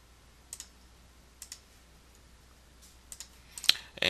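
Several quiet, sharp clicks of a computer mouse come in pairs and small clusters, with brief silences between them. A slightly louder burst of clicking builds near the end.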